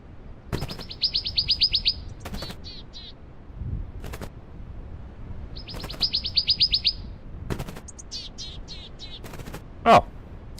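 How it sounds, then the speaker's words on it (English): In the video game BULT, a small bird gives two bursts of rapid, high chirping, with a few scattered clicks between them and a sharp burst near the end. "Well, you're making a little bit too much noise,"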